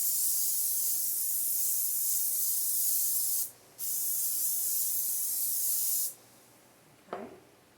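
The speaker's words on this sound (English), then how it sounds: "Okay, so I've got my pan, and we're going to spray it." Two long hissing bursts of aerosol cooking spray onto a pan, the first about three seconds and the second just over two, separated by a short pause.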